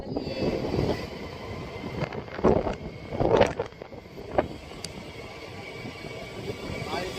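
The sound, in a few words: wind blowing by the sea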